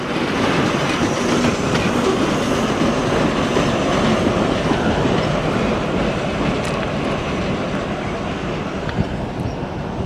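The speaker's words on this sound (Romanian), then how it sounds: "Ți-a plăcut? Trenuțul, ți-a plăcut trenuțul?" A locomotive-hauled train passes close by with a loud, continuous rumble and rhythmic wheel clatter that holds steady for the whole stretch, with faint wind and no clear talking.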